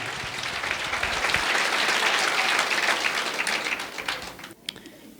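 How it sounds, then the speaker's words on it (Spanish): Audience applause builds to a steady, dense roar of clapping, then thins out and breaks into a few scattered last claps. "Fuerte aplauso charaykuni."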